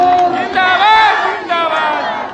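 A large crowd at a political rally at Gandhi Maidan shouts and chants loudly and in unison, with a steady roar of many voices rising and falling in waves.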